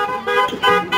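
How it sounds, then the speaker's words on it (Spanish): Car horns toot in short repeated honks as vehicles arrive at a quinceañera party in Bustamante, Tamaulipas, three loud bursts close by with brief gaps between them. "no pueden faltar los clásicos pitidos"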